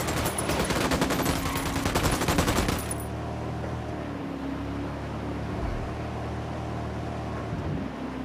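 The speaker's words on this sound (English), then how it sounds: "I'm opening fire on these shitheads." Automatic gunfire in the video game Ghost Recon Wildlands, a loud rapid burst for about three seconds, then a quieter ambient rumble with faint distant sounds.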